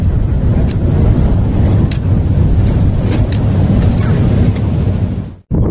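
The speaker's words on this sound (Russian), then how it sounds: "Друзья, поднялся сильный ветер, который мешает нормальной съемке" Heavy wind buffeting a microphone, a loud, continuous low rumble that cuts out briefly near the end before resuming.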